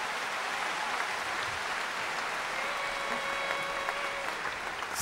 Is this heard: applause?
yes